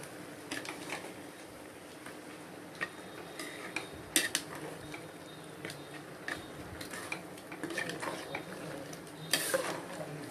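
A village-style curry stirred in a pot, with soft scraping and clinking of a utensil against metal in scattered bursts over a low background, fairly quiet and without speech.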